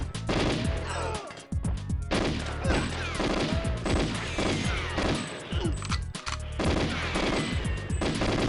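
Rapid bursts of automatic gunfire from GoldenEye 007 on the N64, loud and continuous, with short pauses between volleys and impacts mixed in.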